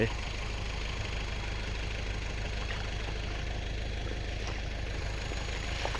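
Kubota L50 tractor engine labouring while stuck deep in heavy clay mud in a field, a steady low mechanical drone that runs continuously and fairly loud throughout.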